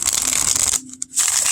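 A Joie de Vivre tarot deck by Paulina Cassidy, printed by U.S. Games on their usual cardstock, is shuffled in a quick, close, papery riffle that breaks off briefly and then resumes.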